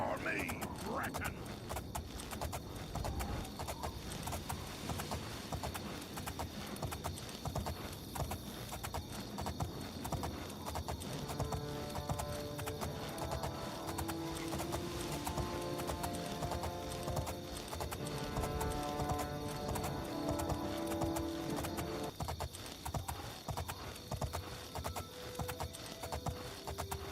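Horse hooves gallop in the game Oblivion, a fast continuous drumming beneath game music and other noise, steady and moderately loud throughout.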